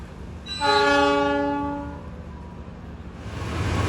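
A loud train horn blares for about a second and a half, then a passing container freight train rumbles steadily nearby with a low, continuous roar, heard from aboard a train on the Jakarta–Surabaya line.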